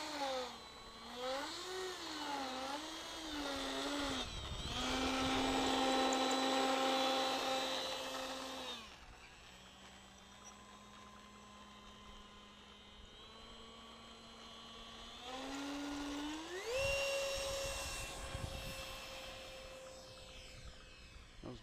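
A de Havilland Vampire jet takes off, its loud engine whine sweeping up and down in pitch, easing to a steadier tone, then swelling again as the aircraft climbs away.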